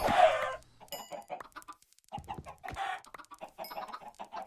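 Chickens in the Forever Stranded video game, a burst of close clucks and squawks followed by scattered short clucking calls with brief silent gaps, no voices over them.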